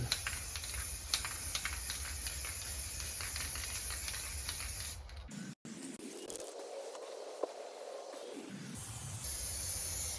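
Aerosol spray paint can putting a final coat onto plastic hubcap trims: a steady, close hiss for about five seconds, a short break, then a brief softer spray and another hiss at the end.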